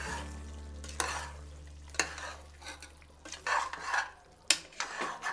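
A spoon scrapes and stirs chopped mint into a vegetable dum biryani masala in a pan, with a few sharp clinks against the metal and a faint sizzle underneath, fairly quiet and close.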